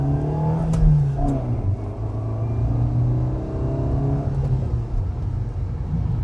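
A 2012 Dacia Sandero 1.2 Ambiance launches quickly from a standstill, its small engine revving up with a rising, whirring drone and a brief dip at a gear change before it pulls on steadily.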